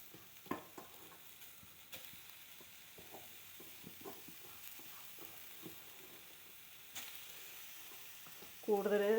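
Chopped bean leaves go into grated coconut frying in a pan for a bean-leaf and jackfruit-seed stir-fry, then get stirred: a faint, quiet sizzle with soft scattered scrapes, ending in a brief tonal sound.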